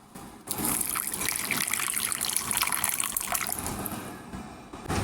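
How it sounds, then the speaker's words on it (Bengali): Water pours and swirls in a bowl as yeast and a little sugar are mixed in, making a close, steady trickling gush for a few seconds that then tapers off. "প্রথমে একটি বাটিতে এক চা চামচ ইস্ট এবং সামান্য চিনি পানি মিশাবো"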